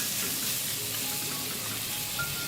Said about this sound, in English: Let's stir to combine the tomato with the other ingredients